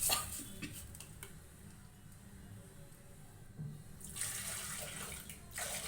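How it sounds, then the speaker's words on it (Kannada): Water runs and splashes steadily, poured into a pressure cooker in a continuous stream that quiets briefly mid-way and then resumes more strongly, with faint clinks. "ನಾನು ಕುಕ್ಕರ್ಗೆ ನೀರು ಹಾಕ್ಬಿಟ್ಟು ಅದನ್ನು ಸೇರಿಸ್ತೀನಿ"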